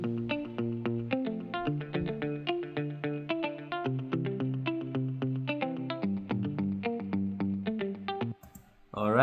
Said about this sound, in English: Alright, and the guitars all together sound like this.